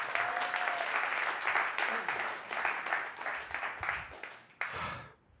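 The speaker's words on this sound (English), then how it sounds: "Let's give him some applause." A congregation at a Sunday celebration service applauds a reverend coming up, a fairly soft, steady clapping that swells and dips before tapering off, with a few voices underneath.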